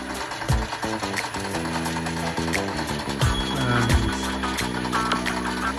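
Motor of a Sealey Clarke lathe reversed and started through its tumble reverse, a steady mechanical running hum with rhythmic ticking and whirring that continues loud and close throughout.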